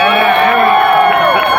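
A crowd at a skateboard stunt show at the State Fair of Texas cheers and shouts in a loud, sustained roar with rising whoops near the end, a voice talking over it.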